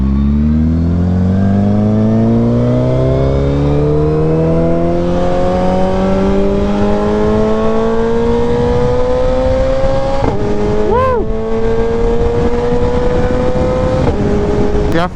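A Suzuki Hayabusa sport touring motorcycle accelerates hard, its engine note climbing steadily in pitch. The revs drop sharply at a gear change, then climb again, all loud and close.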